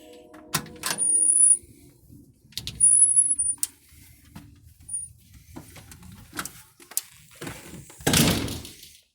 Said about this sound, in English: Screen door.